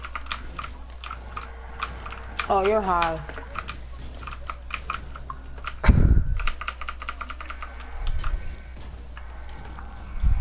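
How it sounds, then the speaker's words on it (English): Clicky keystrokes on a mechanical computer keyboard during a Fortnite squads session, typed in quick bursts under voice chat and game sounds, with a loud thump partway through. "it's a mechanical keyboard."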